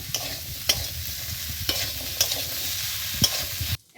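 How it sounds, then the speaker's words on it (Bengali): Ginger and coriander paste frying in a pan for a vegetarian chhole paneer dish gives a close, steady sizzle with a few sharp spoon knocks from stirring, ending abruptly. "ভালো করে ভেজে নেব।"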